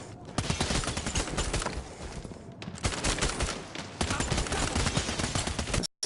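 Dense, rapid gunfire from the PSVR tactical shooter Bravo Team, with sustained bursts of shots filling nearly the whole stretch, loud and close, broken by a brief lull midway and cutting off at the end.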